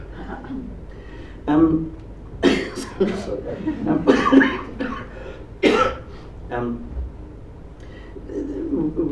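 Several harsh, sharp coughs burst out close by in an uneven cluster, followed by a throat clearing, with a bit of speech mixed in around them.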